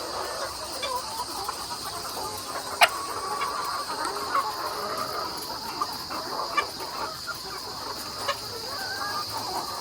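Ready-to-lay chickens cluck softly and intermittently over a steady high insect-like hiss, with a few sharper calls standing out.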